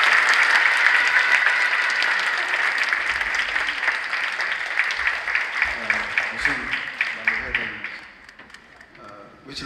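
Sustained applause from an audience at a multicultural choir contest, welcoming a pastor: steady, dense clapping that stays loud for several seconds, then thins into individual claps and fades near the end.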